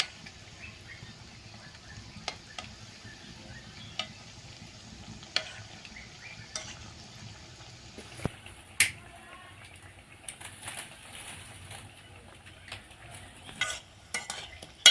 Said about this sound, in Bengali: এবার মিষ্টিগুলো তেলে ছাড়ছি। মিষ্টিগুলো একদম মিডিয়াম আঁচে ভাজতে হবে